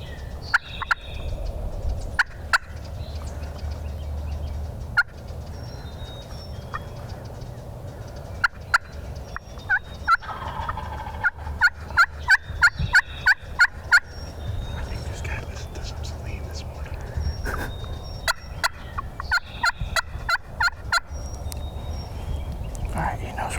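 Wild turkey gobbling among Mississippi pines, a rattling call repeated several times at middling distance over steady woodland ambience, with sharp clicks and soft movement close by.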